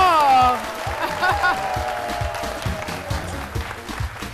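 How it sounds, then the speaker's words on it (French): A television studio audience applauds a guest on a midday talk show set, clapping rising after a musical sting and continuing in a steady patter, with speech-like sounds mixed underneath. "je veux qu'on l'applaudisse encore plus fort"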